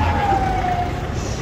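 An emergency siren wails steadily against heavy low traffic rumble on a street scene, a continuous loud tone without talk over it.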